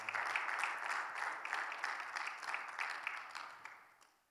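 Sustained applause from a crowd, steady and full for several seconds, then fading away toward the end.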